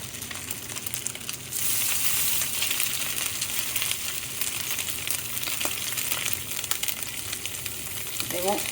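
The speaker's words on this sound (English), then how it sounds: "we're ready to fry the burgers" Shrimp and crab burgers sizzle steadily in a pan, a continuous crackling hiss that grows louder after a moment, with faint scraping in the background.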